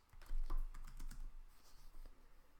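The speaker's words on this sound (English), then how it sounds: "Just start typing and the cursor will go in that search box automatically" Close, quiet typing on a computer keyboard as a search query is entered, a quick burst of crisp clicking keystrokes that slows into a few scattered taps.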